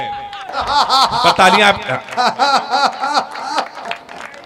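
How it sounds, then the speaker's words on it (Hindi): At a Hindi comic poetry gathering, the audience erupts in rhythmic, close laughter with a short burst of clapping mixed in, the laughing voices pulsing on and off before thinning out. "तालियां आपकी थोड़ी कमजोर आ रही हैं"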